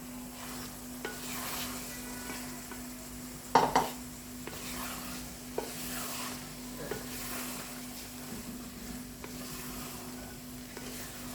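Half a kilo of white chickpeas goes into a pot of well-roasted masala and fries with a soft steady sizzle, broken by stirring scrapes and one sharp clank of a utensil against the pot.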